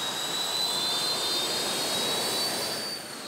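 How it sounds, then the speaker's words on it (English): A MiG-15 jet fighter's turbojet engine roars loudly and steadily as it starts, a dense close rushing whine with a high tonal edge that holds for about three seconds before easing slightly. "Then Roman starts the MiG-15's engine."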